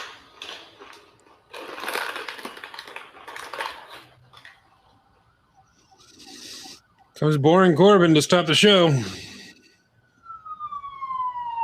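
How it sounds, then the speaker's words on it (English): A wailing siren rises and falls loudly for a few seconds, then trails off with descending tones, between stretches of talk. "Sorry for the siren if you hear a siren."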